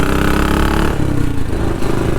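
A classic BSA motorcycle engine runs close by, a loud throbbing exhaust that drops slightly in pitch partway through, with no talk.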